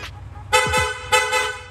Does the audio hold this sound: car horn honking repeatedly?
yes